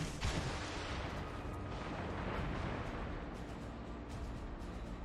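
Naval gunfire from warships in World of Warships, the Royal Navy destroyer Gallant in the fight, comes as heavy booming salvos and rumbling blasts rolling over one another in a dense, continuous battle din, with no voices.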